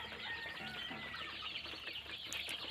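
Local chicks about forty days old cluck softly and steadily on a small poultry farm in Sorbhog, Assam, a faint, continuous chatter of fowl with no talking.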